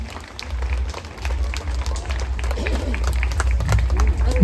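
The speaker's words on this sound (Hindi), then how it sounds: "सबको जोरदार तालियां बजाएंगे।" At a school St. Montfort Day celebration, an audience claps in a loose, moderate round of applause that swells toward the end, with some crowd noise mixed in.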